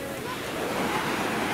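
Sea waves wash in on Cleopatra Beach, a soft, continuous rush of surf with some wind buffeting the microphone, steady and moderately quiet with no talk.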